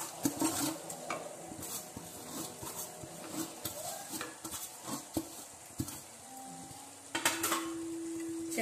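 Vegetables and roasted vermicelli (shavige) stirred in a pan for a pulao-style dish: steady scraping and clinking of a spatula against metal over a soft sizzle, with short sharper knocks and a brief hiss near the end.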